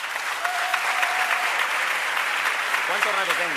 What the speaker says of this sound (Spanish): Por favor, démosles un aplauso.